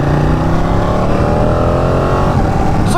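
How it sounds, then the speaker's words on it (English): A big Amazon delivery truck rolls past with a loud, sustained engine roar close by. Its pitch sweeps slowly downward as it goes by, with no voices over it. "A big ass Amazon truck."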